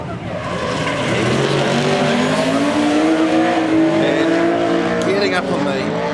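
Drift car at the D1NZ Drift Series round at Manfeild in New Zealand, its engine roaring and climbing in pitch under throttle while the tires squeal, loud and sustained throughout.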